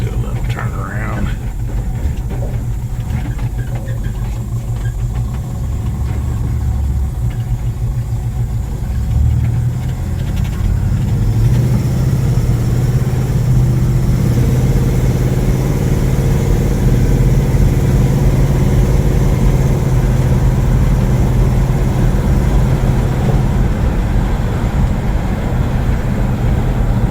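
An Oldsmobile Cutlass wagon with freshly repaired brakes drives slowly and turns around, its engine droning steadily and loudly close up, with a low rumble rising as it moves through the turn.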